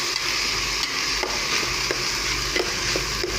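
Cabbage is tossed and fried in a pan, a constant close sizzle broken by scraping stir strokes that come every half second or so, with no speech.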